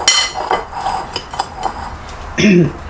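Bread crumbs being mixed with oregano, salt and pepper in a bowl, making a few close scraping, clinking stirs with a short louder knock near the end, no talking.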